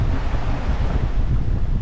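Strong wind buffets the microphone over rough, choppy sea off Key West while boating, a loud constant roar of gusts and crashing water with no break.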